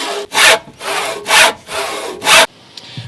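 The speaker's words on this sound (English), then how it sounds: "you start off slow to get your saw line" A hand saw cuts a redwood board with three slow, loud rasping strokes, each a separate rough push, close by before a sudden stop.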